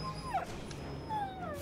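A dog in the video game Battle Brothers gives two short, high whimpering yelps, fairly close, over a low murmur of background game sound.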